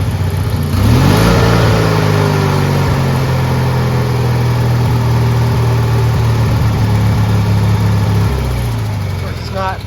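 A small Ford YT16 lawn tractor engine runs loud and close, idling roughly after carburetor adjustment with an uneven, sputtering rumble that holds steady for several seconds.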